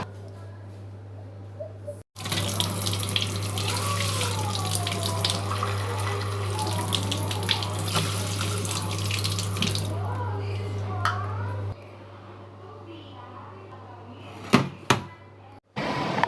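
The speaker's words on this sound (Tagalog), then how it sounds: "hugasan na nga niya itong Japanese rice ng dalawang hugas" Japanese rice is rinsed under a running tap, a steady loud rush of water with sloshing and stirring that lasts about ten seconds, then stops, followed by a few sharp knocks.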